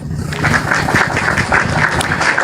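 Audience applause welcomes a speaker stepping up at an Indonesian church gathering, a steady, dense clapping that carries through the short stretch, fairly loud and close.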